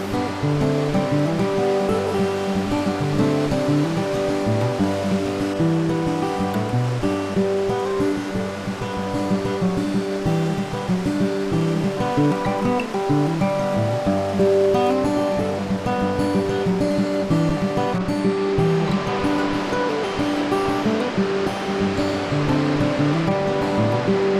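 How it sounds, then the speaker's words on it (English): Presque Isle River waterfalls in the Porcupine Mountains in autumn, a steady, loud, continuous roar of rushing falling water that holds unbroken throughout with no voices. "The waterfalls of the Presque Isle are the largest in the park and the second largest in the state."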